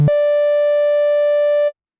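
Omnisphere synth tone from the DSP engine using the MS-20 triangle wave: a single steady sustained pitch, clean and close, held for under two seconds before cutting off.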